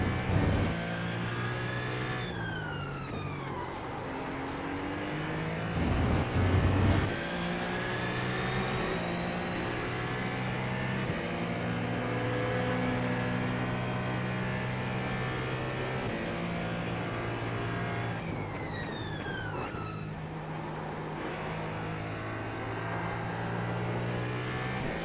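LMP2 prototypes and GT3 race cars in iRacing at Monza or Le Mans, with a steady loud engine drone, gear shifts and rising revs as cars pass, several engines layered.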